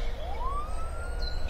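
Emergency siren rising in a single smooth upward sweep and holding its pitch, moderately loud over low background rumble, with no talking.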